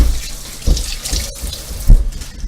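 Kitchen sink faucet running while hands are washed under it, a close steady water rush with splashy surges as the hands move through the stream; no speech.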